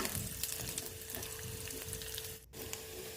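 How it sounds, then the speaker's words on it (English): Onion, chili and curry leaves frying in a pan give a steady, close sizzle with faint crackles, running continuously with no talk, briefly dipping for a moment near the end. "Fry it."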